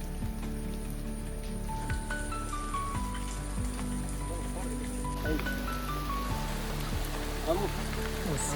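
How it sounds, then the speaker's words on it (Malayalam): Heavy rain pours steadily outdoors during a traditional fishing trip. The hiss is dense and constant, with faint tonal chirps and other background sounds woven through it. "മഴയായി. നല്ല മഴയാണ്."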